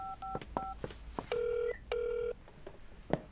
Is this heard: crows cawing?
no